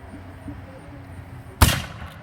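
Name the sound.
three-barrel Chinese hand cannon firing in succession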